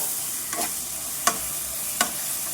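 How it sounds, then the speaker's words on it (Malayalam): Masala, coriander, turmeric and chili powders frying and being stirred in a pan for chicken biryani, with a steady soft sizzle broken by three brief scraping strokes of a spoon. "മസാലപ്പൊടി, മല്ലിപ്പൊടി, മഞ്ഞൾപ്പൊടി, മുളക് പൊടി ഇതിട്ട് നന്നായി പച്ച മണം മാറുന്നത് വരെ ഇളക്കുക"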